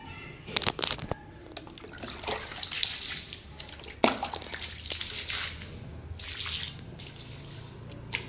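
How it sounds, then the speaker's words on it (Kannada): Water is poured and splashed across a sit-out floor in uneven bursts, with close splashes, drips and spattering, and no talking. "ಅಷ್ಟು ಸಿಟೌಟಿಗೆ ನೀರು ಹಾಕೋಣ."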